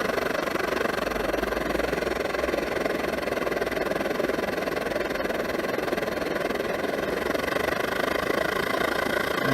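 A vintage roarer burner stove burns steadily with its flame turned down toward a simmer, giving a continuous, even rushing roar with no breaks, close and fairly loud throughout.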